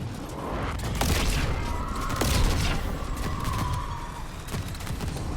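Gunfire in a Call of Duty zombies-style video game, aimed at a boss's hands, comes as a string of booming shots with heavy rumbling impacts and a humming tone underneath, loud and steady.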